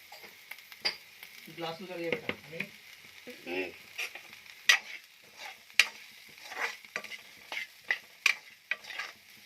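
Chili powder stirred into a frying mixture in a pan, with repeated close scraping and clinking strokes of the spoon over a soft sizzle; a person speaks briefly near the start.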